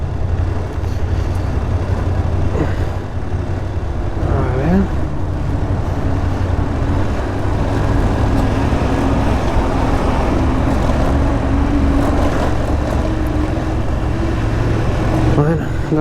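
Two trucks pass along the Pamir Highway in Tajikistan, heard as a steady low engine and road rumble that fills the clip, with wind noise from a heavily loaded motorcycle carrying two riders.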